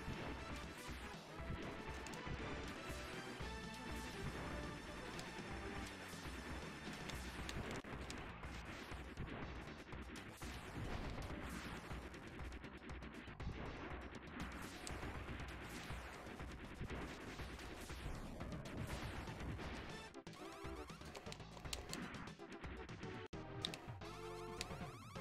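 Shooting rattles through a video game battle against mech enemies, a dense, continuous barrage of crashing impacts and gunfire layered over music, steady and busy throughout.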